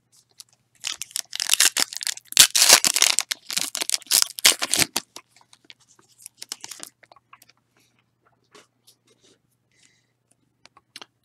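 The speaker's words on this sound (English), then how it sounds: "I'm sitting here wondering why I'm opening cards." Packs of 2014 Bowman Sterling baseball cards are torn open up close, giving dense crinkly ripping and rustling for several seconds, then sparse handling clicks and shuffles fading to quiet.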